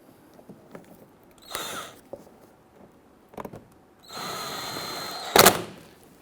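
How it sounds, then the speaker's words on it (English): A power drill driving screws into the engine splash shield of a 2011-2023 Dodge Charger, heard as two short whirring bursts, the second longer and ending in a sharp close burst, amid faint handling noises. "Let's go ahead and start installing our screws."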